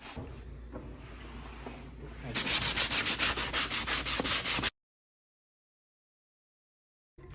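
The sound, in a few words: sandpaper touching up scraped buckskin hide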